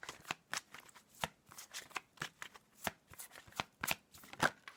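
Tarot cards are riffled and shuffled in quick, close, crisp bursts of papery slaps and flicks, with no talking.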